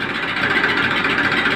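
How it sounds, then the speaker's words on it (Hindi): A 2007 Massey Ferguson 1035 DI tractor engine runs steadily and loud at close range, a continuous diesel drone with no break and no talk over it. "ट्रैक्टर स्टार्ट होगा है,"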